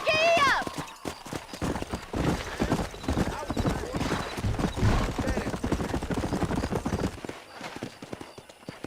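Horse hooves clip-clopping at a gallop in the video game Red Dead Redemption on PS5, a steady busy rhythm under game music and ambience with a brief whinny near the start.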